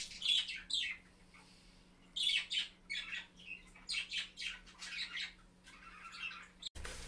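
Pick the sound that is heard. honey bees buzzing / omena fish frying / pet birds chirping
pet birds chirping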